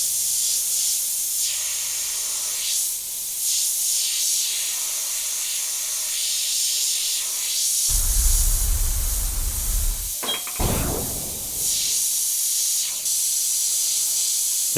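An airbrush sprays paint over a template, giving a steady, close hiss throughout with a stronger, fuller burst of spraying midway before it settles back to a thin hiss; no one speaks.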